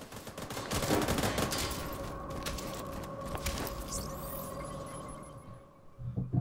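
Gunfire in The Division 2 video game rattles in dense, rapid bursts with a sustained low hum beneath, fading briefly before picking up again at the end.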